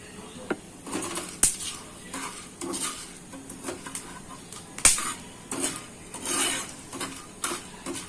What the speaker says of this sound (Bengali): এবার সব মশলাগুলোকে আমি টেলে নেব